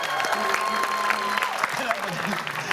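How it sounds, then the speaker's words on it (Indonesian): Studio audience clapping on an Indonesian comedy variety show, a steady patter of applause lasting a few seconds with voices and crowd noise mixed in. "Tepuk tangan."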